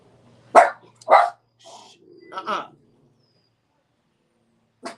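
Dog barking indoors: two sharp loud barks close together, then softer yips and a growly bark, with one last short bark after a pause; a voice speaks briefly amid them.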